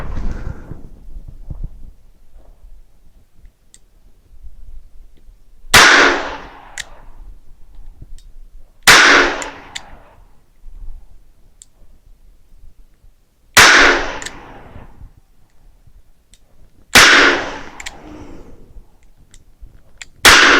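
A Kimber K6S DASA revolver fires hand loads: four sharp, loud reports spaced several seconds apart, each with a brief ringing decay, over a quiet background.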